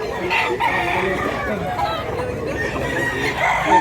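Roosters crow repeatedly amid steady clucking and crowd murmur at a busy chicken market in Mantalungon, Cebu, the birds close and loud with a low bustle of voices underneath.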